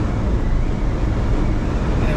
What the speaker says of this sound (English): This will give you kind of a better idea on what the cab sounds like.